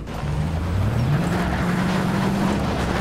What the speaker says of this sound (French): Elle est tellement rapide, cette voiture.